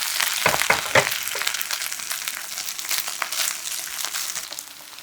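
Spam pieces fry in heated cooking oil in a pan, pressed lightly into shape, with a close, bright continuous sizzle, a few sharp crackles and pan scrapes early on, then the sizzle slowly fading.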